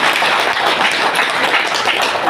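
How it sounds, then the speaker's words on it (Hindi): An audience claps loudly and steadily at a business motivational event, a dense, continuous wash of applause close by with no gaps. "एक बार जोरदार ताली इन दोनों के नाम पर।"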